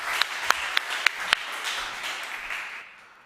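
A conference audience applauds a presenter: a handful of sharp, distinct claps ring out over a light wash of clapping that thins and fades away within a few seconds.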